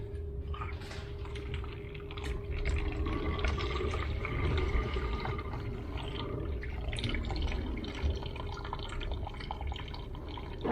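Water tipped out of the cooling system of a 1971 Range Rover gushes and splashes steadily and continuously at close range, with faint drips and trickles and no talking.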